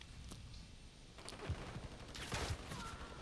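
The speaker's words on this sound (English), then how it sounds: "He's still shooting at me." Call of Duty gunfire in a Hardpoint match on the Invasion map rattles in dense bursts of distant automatic shots, thickening into a heavier exchange toward the end.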